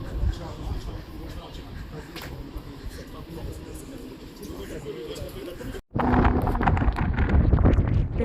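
Gusty wind buffets the microphone outdoors in Marseille near the cathedral, a rough low rumble that jumps louder after a brief cut, with a voice speaking faintly beneath.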